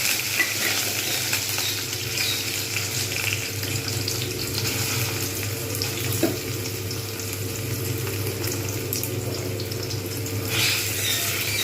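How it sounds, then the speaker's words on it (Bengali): Paneer pieces fry in hot white oil in a kadai, giving a continuous, even sizzle and crackle that holds steady throughout, close and moderately loud, with no talking. "তেল গরম হয়ে গেছে কড়াতে দিয়ে দিয়েছি এবার আমি পনিরগুলো দিয়ে দেবো"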